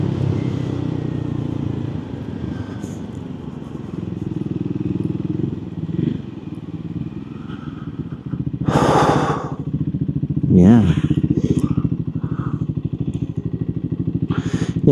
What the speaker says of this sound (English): a lovely little Revy engine